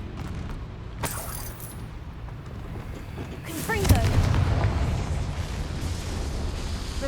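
A Confringo fire-blast spell cast in Hogwarts Legacy bursts out as a heavy boom with a crackling rumble, following a rising whoosh, amid game ambience and faint background noise.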